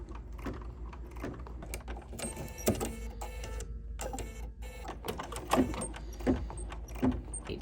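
Computerized embroidery machine stitching the perimeter outline of a quilted trapunto pillow, a steady mechanical whir with rapid needle clatter and a few louder knocks, fairly close and alone.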